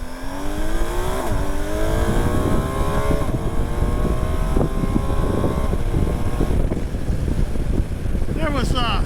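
A BMW GS 1250 Low motorcycle on a demo ride, with loud, continuous engine drone rising in pitch through the gears under heavy wind rush, then a brief shift near the end.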